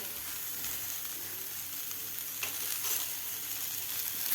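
Tomatoes with salt frying in masala with no onion or garlic, giving a continuous close hissing sizzle with a few brief stirring scrapes, no voices.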